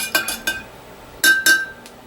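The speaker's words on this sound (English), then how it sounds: "Just a nice little stir." A spoon stirs Kool-Aid drink mix in a cup, giving a few light, close clinks in two short bursts separated by a pause.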